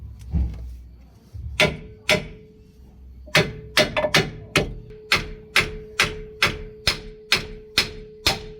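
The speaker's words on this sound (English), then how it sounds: "You start tapping it" A hammer strikes metal in a steady series of sharp, ringing taps, about a dozen blows, driving a shaft during a Ford Figo shock mount replacement, close by with a short pause early on.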